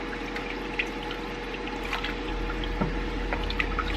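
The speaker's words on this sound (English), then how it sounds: "my liquid is boiling" Liquid with half a bouillon cube bubbles and burbles quietly in a pot before orzo is added, soft popping over a faint low hum, with no voices.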